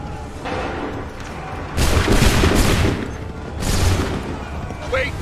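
Two loud musket volleys from ranks of soldiers in Assassin's Creed 3, each a crackling burst of many shots rolling into a booming echo, separated by a lull with background battle noise.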